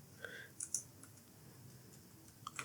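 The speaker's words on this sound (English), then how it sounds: "So let me just finish typing this now." Scattered soft clicks of computer keyboard keys being tapped, a few quick bursts with pauses between, faint and close over quiet room hiss.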